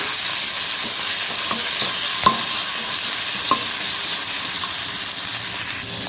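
Green chilli, curry leaves and grated ginger frying in hot oil with a steady loud sizzle and hiss throughout, broken by a few sharp scrapes and clicks of a spoon stirring against the pan.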